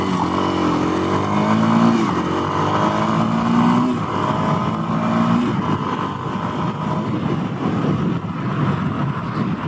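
A Kawasaki KLX230 dual sport motorcycle engine drones loudly while riding, rising in pitch through a few slow upshifts, with wind rush growing steadily under it and no talk.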